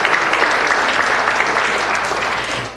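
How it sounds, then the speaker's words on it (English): Steady applause from an audience at a city council meeting, dense clapping that holds at full strength for a few seconds before tapering slightly at the end. "That does deserve a round of applause"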